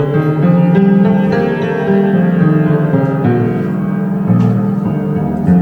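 Piano notes step through a scale an octave lower, played one by one at an even pace on a freshly tuned piano, warm and close, with no talking.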